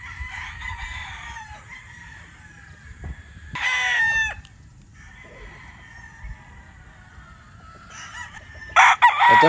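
A gamefowl rooster of 3/4 Sweater, 1/4 Boston bloodline crows loudly and close, with another long crow near the end and fainter crowing from other birds in between.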